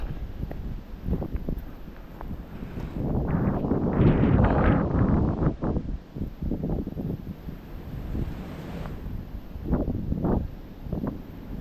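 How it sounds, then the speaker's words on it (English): Strong wind on a cold night walk in Maine, buffeting the microphone in loud gusts that swell and fade, with rustling leaves underneath, continuous and without talking. "Tonight it's windy"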